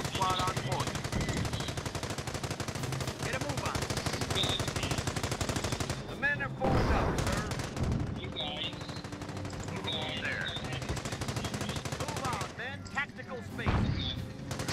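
Dense, loud machine-gun and rifle fire rattles nonstop across a base in the strategy game Company of Heroes, with heavier blasts mixed in and game voices talking over the battle.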